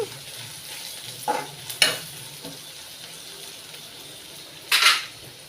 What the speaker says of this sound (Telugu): వేగిపోయిందండి ఉల్లిపాయలు వేగిపోయి